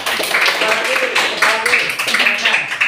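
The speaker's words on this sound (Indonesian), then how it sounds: "Tepuk tangan." A classroom claps for a student during a lesson, scattered hand claps mixed with voices and chatter throughout, moderately close.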